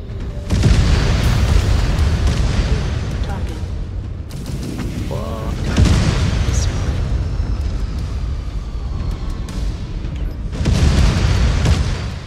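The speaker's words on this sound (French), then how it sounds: "il y a du bombardement, là, il va falloir faire attention. Il y a de l'artillerie." Artillery bombardment in a mech combat video game: several heavy booming explosions roll in at intervals, each a broad, loud burst that decays slowly beneath ongoing noise.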